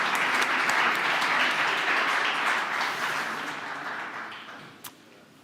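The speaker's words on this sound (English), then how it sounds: "We want to give you a nice round of applause, and thank you." Audience at a startup demo day in Milan giving a warm round of applause for the advisors, a dense wash of clapping that gradually tapers off with a single sharp clap near the end.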